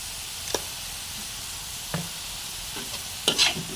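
Metal utensil scraping and clattering against a wok in a few sharp strokes while stir-frying crab fried rice, with faint sizzling underneath.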